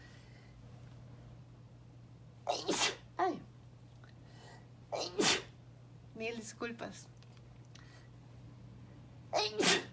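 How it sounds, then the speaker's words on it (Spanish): Repeated allergy sneezes, four or five sharp bursts spaced a second or two apart over a quiet steady hum, with a brief apologetic voice in between. "todos nos preocupamos cuando estornudamos y son alergias"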